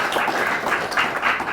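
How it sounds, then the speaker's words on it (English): An audience at a children's awards ceremony in Fiji gives a round of applause, a dense burst of clapping lasting about a second and a half. "Can we just give them a round of applause?"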